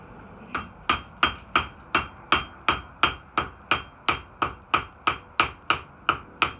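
Blacksmith hammering square bar stock to a taper on an anvil in an Irish forge, about seventeen sharp ringing metallic blows in a steady even rhythm, each with a short decay, close and clear with no talking.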